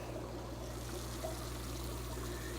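An aquarium air pump drives steady bubbling through a sponge filter in a DIY matten filter setup, producing a continuous, even trickle of water over a low constant hum, close and moderately quiet with no talking.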